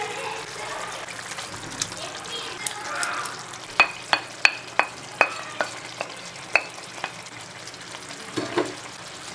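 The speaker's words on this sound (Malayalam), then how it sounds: "ഇനി നമുക്കിതിലേക്ക് നേരത്തെ സോട്ട് ചെയ്തെടുത്തിട്ടുള്ള പനീർ ക്യൂബ്സ് ആഡ് ചെയ്ത് കൊടുക്കാം." Soaked paneer cubes drop into a sizzling dhaba-style curry masala in a pan, giving a soft steady sizzle broken by a run of sharp clicking taps from a spoon stirring against the pan.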